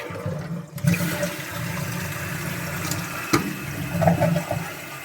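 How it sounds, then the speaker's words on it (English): A toilet with a newly replaced tank flapper flushes with a sudden rush of water that settles into a steady swirling drain and refill, close by and with no talking. "I'm just gonna try it and see how that goes when I flush it"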